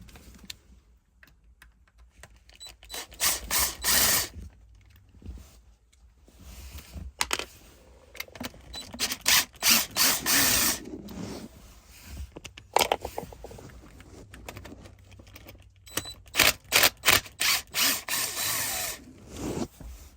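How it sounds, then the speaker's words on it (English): Screws come out of the gearstick cover on a Land Rover Defender Puma 110. Bursts of short, irregular scraping and ticking are heard, some in quick rapid runs with brief pauses between, close and fairly quiet. "I'm going to pop these screws out and just see what the wear's like at the bottom"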